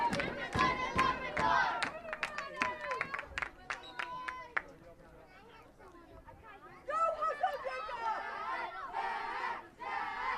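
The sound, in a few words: fans cheering at a youth soccer game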